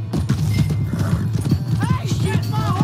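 A horse in the video game Red Dead Redemption II gallops with rapid, rhythmic hoofbeats close by, then lets out whinnies, while voices speak over the action.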